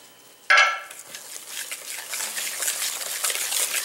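Whisk or spoon stirring thin tempura batter for shrimp, seasoned with Old Bay, in a bowl; a sharp clink opens it, followed by steady wet swishing that keeps going.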